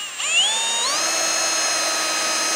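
A drill spins up with a rising whine and bores a 4 mm hole into a steel plane blade, settling into a steady high-pitched hum for a couple of seconds.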